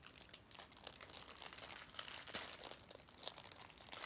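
Crisp plastic crinkling and crackling as a fortune cookie wrapper is torn open, in irregular close bursts with no talking.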